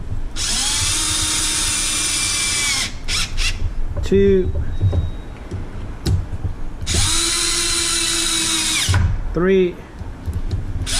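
A power drill drives screws while building a Super Typhon remounted on a Kraton RC chassis, two long loud whirring runs with short bursts between them, and someone talks in the gaps.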